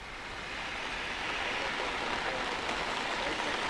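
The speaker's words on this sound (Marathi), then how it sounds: "सकाळपासून पाऊस हा सततधार पडतो आहे।" Heavy, continuous monsoon rain falls in Pune, a dense, even hiss that holds steady throughout with no voices.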